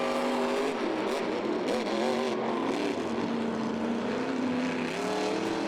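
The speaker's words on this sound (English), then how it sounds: "Dennis Anderson and Gravedigger, championship round race in Baltimore" Monster trucks race in a championship round at a Monster Jam stadium show in Baltimore, including Gravedigger. Engines roar loud and continuously and rise and fall in pitch as they rev, with a crowd wash behind and no voices on top.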